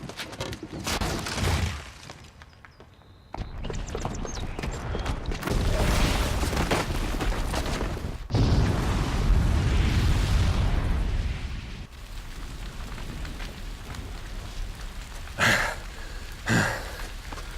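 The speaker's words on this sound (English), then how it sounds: "the booby trap on the bomb downstairs is gonna get set off" A booby-trapped bomb exploding in the video game Horizon Zero Dawn, with heavy rumbling blasts and crackling debris rolling on in a long, loud roar, followed by a few sharper late bursts.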